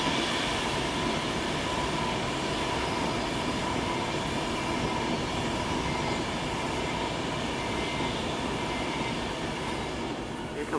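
A Class 390 Pendolino electric train passes South Hampstead station at close range, a loud, steady roar of wheels and rail noise that holds throughout, with no talking.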